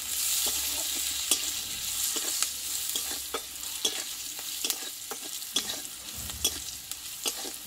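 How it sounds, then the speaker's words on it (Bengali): Green chilies and onion frying with turmeric in a pan, a steady close sizzle broken by repeated scraping stirs of a spatula, no voices. "দেখো লঙ্কাটা পেঁয়াজের সঙ্গে একটু ভেজে নিয়েছি"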